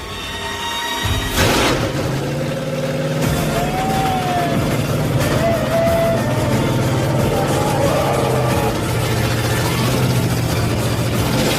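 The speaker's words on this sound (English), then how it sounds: "Nothing sounds as sweet as a blower motor" A 1966 Ford Mustang engine with a supercharger blower cranks and fires up loudly, then settles into a heavy, rumbling idle with a slight whine rising and falling as it runs close by.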